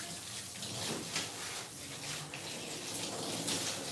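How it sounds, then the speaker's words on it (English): Water runs steadily from a hose or tap as a Doodle dog is rinsed during a bath, a soft, continuous splashing hiss heard up close with no voices. "Water only now, we're gonna rinse the whole body."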